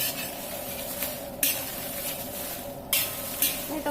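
Chili paste roasted with pork in a pan, half a kilo at a time: continuous close sizzling and scraping with rhythmic stirring strokes, some sharper scrapes standing out.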